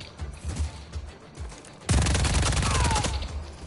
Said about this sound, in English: You shooting at me.